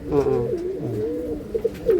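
Racing pigeons from Kozhikode coo close by in low, throaty, warbling phrases, several overlapping calls over a couple of seconds.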